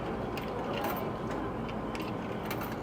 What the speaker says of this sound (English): So I'm gonna take money out of this changer to start him in a new washer.